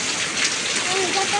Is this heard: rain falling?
yes